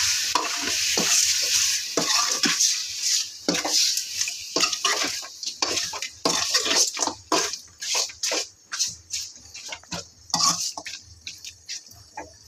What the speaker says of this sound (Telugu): బాగా చికెన్కి పట్టుకునేలాగా ఉప్పు కారం ఒకసారి అయితే బాగా కలిపేస్తాను.